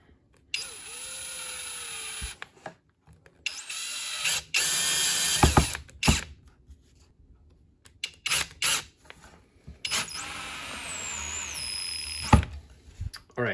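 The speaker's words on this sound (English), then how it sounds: "I'm gonna install them with the screw gun." A screw gun driving screws into a wooden TV stand during assembly, with several bursts of whirring and ratcheting spaced by pauses and handling noise.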